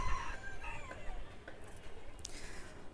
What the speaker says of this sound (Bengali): ছাদে আসলেই এখন মুরগি ডাকে প্রচুর